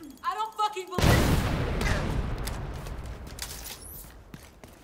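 A frag grenade is thrown in The Division 2 video game. After a brief spoken phrase it detonates in a sudden loud burst, and a long, rumbling, noisy wash of gunfire and debris follows and fades slowly.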